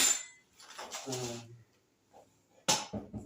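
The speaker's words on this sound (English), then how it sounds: "I'm going to just scrape an onion off the spatula, put that back in sink" Metal spatula scraping onion at a hot dog stand, followed by clinks and clatters as the spatula is dropped into a sink; short, close metallic sounds separated by quiet gaps.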